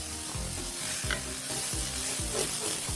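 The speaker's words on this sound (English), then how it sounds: "give it a quick stir" A spoon stirs sausage, bell pepper, onion and garlic in a hot pan, scraping in several evenly spaced strokes over a soft, continuous sizzle.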